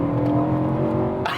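Steady, loud engine drone of a BMW E92 M3 V8 held at high revs, a sustained tone that shifts abruptly just before the end, with no talk over it.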